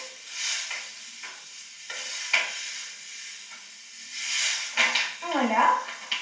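Cane sugar sizzles and hisses in a hot pan as it caramelizes, with soft stirring scrapes and a few louder bursts of sizzle over a quiet steady hiss.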